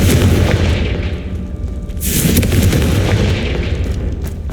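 A Confringo fire spell explodes in Hogwarts Legacy as a loud, sustained roar of booming blasts and deep rumble, rising again midway, with no one speaking.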